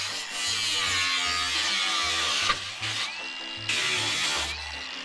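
An angle grinder cuts through a shop wall to free a beam: a loud, continuous high whine that holds for several seconds, dips briefly twice, then resumes, with music playing underneath.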